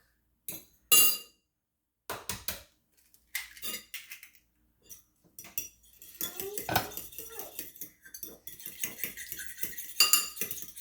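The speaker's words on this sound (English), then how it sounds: "first we're just going to mix up the egg" A fork beats eggs in a bowl, rapid clinking taps against the dish in bursts, then a denser run of quick close metallic strokes.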